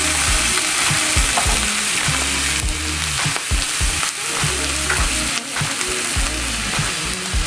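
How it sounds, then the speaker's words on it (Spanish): Beef browns in oil in a frying pan, a loud, continuous sizzle and crackle with occasional stirring scrapes, close up and without talk. "Y aquí va otra vez la carne al sartén. Ahora vamos a dorarla un poquito."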